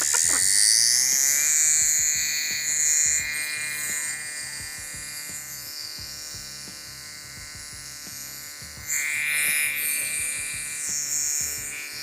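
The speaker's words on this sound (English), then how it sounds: "You press the same power button here. That's what activates the compressor." The Etenwolf S1, a tiny portable air compressor pump, inflates a tire with a loud, steady, close buzzing drone and a rapid piston rattle that runs the whole time and shifts pitch slightly partway through.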